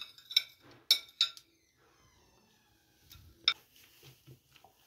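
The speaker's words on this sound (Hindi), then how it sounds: "अब हम इन सब चीज़ों को अच्छी तरह से मिक्स कर लेंगे" A spoon clinks against a bowl while chana chaat with chickpeas, potatoes, red radish and green chutney is mixed, a few bright knocks then quieter stirring, close and fairly soft.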